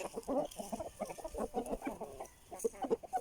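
Aseel chickens on a farm, with roosters among the flock, give a run of repeated clucking and short calls that rise and fall for several seconds, fairly close, with no talk.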